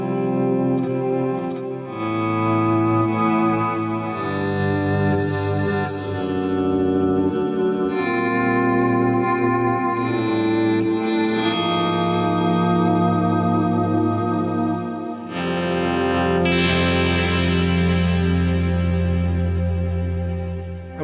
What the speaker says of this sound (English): I've got sort of some delays working, which I can do for the sweeping in stuff.